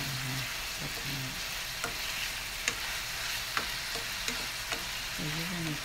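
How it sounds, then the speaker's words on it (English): Pork sizzling steadily in a pan for a stir fry with bamboo shoots, a continuous bright frying hiss with occasional pops and light utensil clicks. "So you're going to keep frying the meat until it's done before you can start putting the bamboo."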